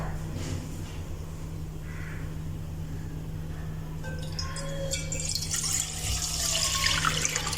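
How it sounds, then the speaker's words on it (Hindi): Milk poured from a container into a pan on the stove for rasmalai, a steady liquid splash that starts faint and swells louder and brighter over several seconds, with a constant low hum beneath. "इसमें जाएगा दूध।"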